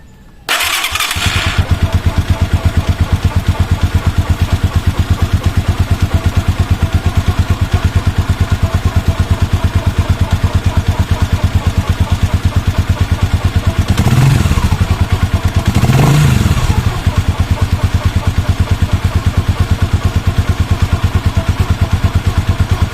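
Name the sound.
Rusi motorcycle engine started and running on R8 4T SAE 40 oil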